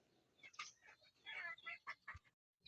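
Chickens clucking in a series of short, irregular calls, fairly close, with quiet gaps between them.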